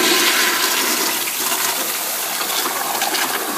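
A faulty standard toilet flushes with a loud, close rush of gushing and splashing water that stays strong and turbulent for a few seconds, with no voices.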